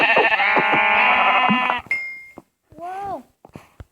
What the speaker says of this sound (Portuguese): Uma ovelha! Vamos matá-la.